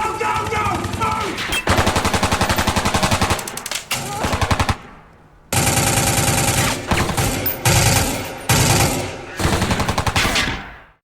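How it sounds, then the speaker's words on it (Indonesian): Heavy automatic gunfire from a film ambush shootout, with loud, dense machine-gun bursts, brief pauses and a short gap, then rapid volleys resuming up close. "Wick bersama anggotanya menyergap kelompok Jack hingga terjadi aksi baku tembak"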